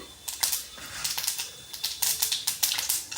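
Mustard seeds crackling and popping in hot oil in a pan, a close burst of sharp irregular pops and spatters that comes in quick clusters across the whole stretch.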